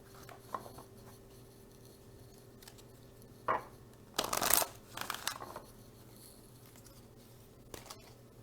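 A deck of oracle cards handled and shuffled at close range, with quiet riffles and a brief cluster of louder flicking bursts against a soft background hum.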